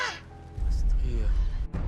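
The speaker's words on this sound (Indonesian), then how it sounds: "Kayak burung yang tadi suaranya, burung gagak yang di ruang sana." A crow in a nearby room gives a single short caw at the start, followed by loud low rumbling and background noise.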